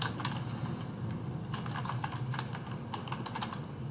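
Steady typing on a computer keyboard, quick uneven key clicks in short runs with brief pauses, close but quiet, no talk.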